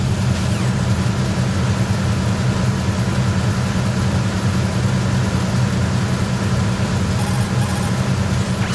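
A ship's engine room in Metal Gear Solid 2 drones with a constant, loud machinery hum, a thick low rumble with a steady broadband wash and no pauses.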